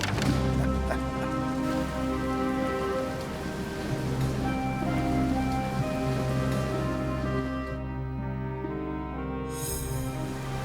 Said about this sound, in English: The rain covered the whole earth.